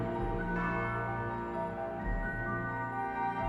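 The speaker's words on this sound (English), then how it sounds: "at which point the sound of a bell can be heard, seemingly summoning all the prisoners to a shared room" A bell rings to summon prisoners at a fortified compound, its steady sustained tones sounding alone and moderately loud over a low background hum.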